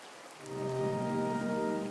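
Cartoon rain swells in from near quiet and settles into a steady, dense hiss of falling drops, layered with a soft sustained musical drone.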